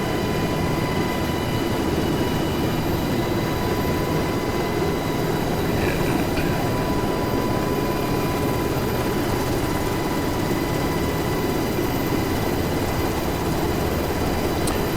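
UH-60L Black Hawk helicopter flying in the DCS flight simulator, a steady, loud rotor and turbine drone that holds constant throughout with no talking.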